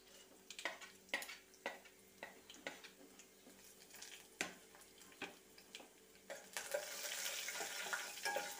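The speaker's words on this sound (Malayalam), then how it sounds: "ഇതിലേക്ക് നമുക്ക് ഉലുവയും ജീരകവും ചതച്ചത് ഇട്ട് കൊടുക്കണം" Crushed fenugreek and cumin seeds frying in a pan for rasam, with repeated stirring scrapes and ticks over a steady sizzle that swells louder toward the end; no talk.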